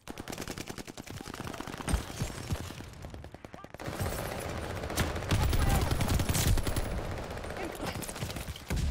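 Rapid automatic gunfire in Call of Duty Vanguard rattles in loud bursts with brief gaps, then gives way to a busy wash of shots, impacts and battle noise, with some voice mixed in.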